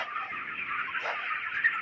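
A dense flock of 26-day-old broiler chickens clucks and chatters together on a farm, forming a steady, continuous murmur of overlapping calls at moderate loudness with no talking.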